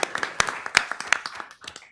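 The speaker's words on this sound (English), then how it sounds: "We give him a little round of applause." A small round of applause at a board meeting, a few people clapping in short uneven bursts that thin out after about a second and a half, fairly close and moderately loud.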